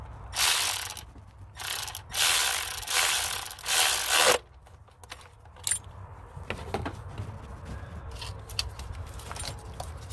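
Ratchet wrench tightening a spark plug on an Infiniti FX35, loud close rapid clicking bursts in the first four seconds, then quieter faint mechanical clinks and handling noises.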